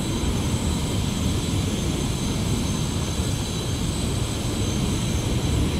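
An A-10 jet in a flight video game on its landing approach: a steady, loud, continuous engine roar with broadband rushing noise and no breaks, heard alone without talk.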